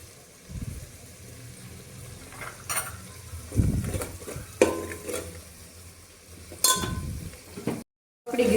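Garlic fries in a pan for tawo undhiyu, a soft sizzle beneath repeated scraping stirs and clinks of a utensil against the metal, with no one speaking.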